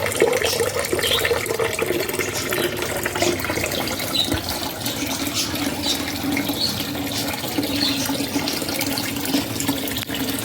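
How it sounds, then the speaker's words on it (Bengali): Water pours steadily out of a rooftop koi pond filter as it drains, a continuous broadband splashing rush with faint metallic clicks, moderately loud and unbroken throughout, with no voices. "এই জল পড়তে শুরু করে দিল।"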